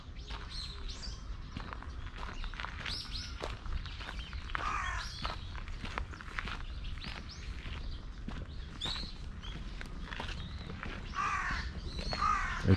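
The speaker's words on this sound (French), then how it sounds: "Avec nos amis les corbeaux comme d'habitude." Crows caw repeatedly in a Japanese garden at Nagoya Castle, with other birds chirping and faint footsteps beneath them, the calls moderately distant and coming in irregular bursts.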